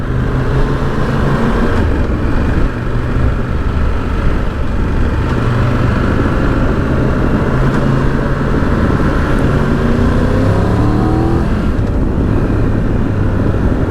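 A Triumph Tiger 1200 GT Pro motorcycle engine hums continuously while riding, with rising and falling gear-change tones over steady wind rush, loud and close with no voices.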